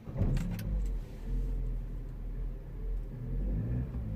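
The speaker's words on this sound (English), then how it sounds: "Let me start the car." Vauxhall Corsa D 1.4 with a fault causing shutdown and limp mode, its engine cranking and catching, then settling into a low, steady idle rumble, close and fairly quiet, with no speech.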